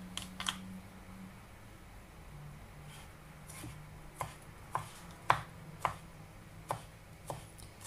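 Garlic cloves are chopped with a knife on a board in a series of sharp, irregular taps, some louder than others, over a faint low hum.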